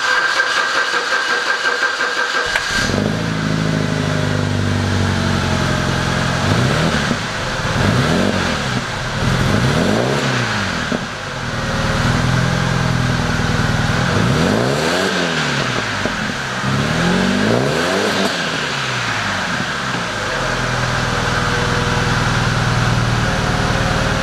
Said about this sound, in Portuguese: Vou deixar a câmera aqui no escapamento e vou dar a partida nela, primeira partida do dia.